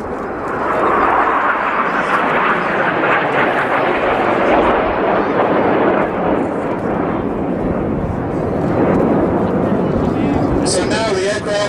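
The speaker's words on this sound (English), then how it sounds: "So now the aircraft are 1 kilometer high above us." Red Arrows display jets climbing and rolling into Typhoon formation about a kilometre overhead at an airshow, a loud continuous broadband roar that swells and holds throughout with crowd noise beneath it.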